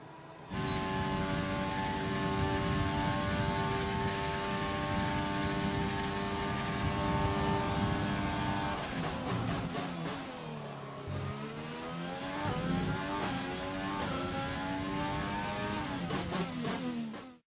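Formula 1 race cars from the F1 2020 video game at the Azerbaijan circuit, engines screaming continuously with high harmonic whine, shifting pitch as cars pass and accelerate, loud and sustained with no talk.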